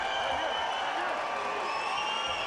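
Boxing arena crowd during a heavyweight bout involving Samuel Peter, a steady broad roar of spectators with scattered cheers and applause filling the whole moment, no clear talk on top.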